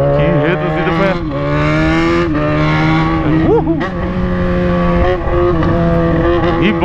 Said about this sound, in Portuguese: Que reduzida foi essa?